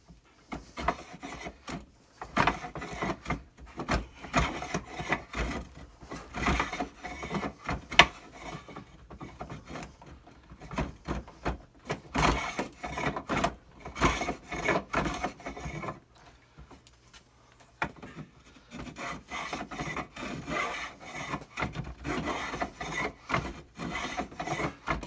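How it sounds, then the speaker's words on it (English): A hand plane shaves along the wooden stock of a rifle in repeated rasping strokes, close and fairly quiet, with brief pauses between passes. "The nice thing about a plane is it does cut flat and it cuts long"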